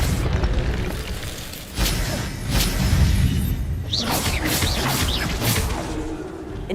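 A disarming spell is cast in Hogwarts Legacy: booming magical impacts and whooshing bursts follow one another across several seconds, loud and close, mixed with crackling game effects and no voices.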